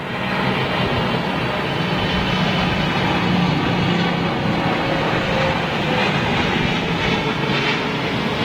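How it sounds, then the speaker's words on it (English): Broad, roaring jet engine noise from a China Eastern Boeing 777 at Heathrow Airport, a sustained loud wash that holds steady with slight whining tones across the whole stretch. "loves the engine sounds. Here we go, look at this China Eastern 777."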